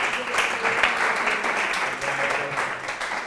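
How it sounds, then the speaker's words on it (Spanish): A school-radio conference audience applauds with steady, dense clapping for a few seconds, fairly soft and roomy, while a voice speaks over it. "Vamos a darle un aplauso,"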